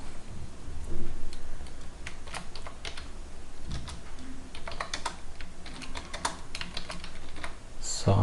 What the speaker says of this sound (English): So I'm typing text on wall.